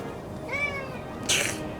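Pet cat meowing indoors near a windowsill: one drawn-out, rising and falling meow, clear and close, followed by a brief sharp hiss-like burst.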